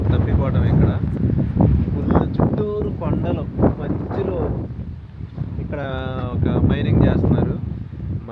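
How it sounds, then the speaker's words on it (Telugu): Strong wind buffets the microphone amid rain in remote hills in the UK, a rough, loud rumble running beneath nearly continuous close talking. "ఇదిగా వర్షం పడుతుంది అండ్ విండ్ అయితే ఇక చెప్పలేము"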